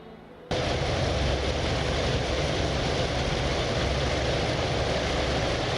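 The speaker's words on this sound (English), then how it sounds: "Normally, the aircraft would have a 20-minute engine warm-up and idling period before takeoff." Several carrier aircraft engines idle on deck in the naval strategy game Task Force Admiral, a steady loud droning roar that starts abruptly and holds without change.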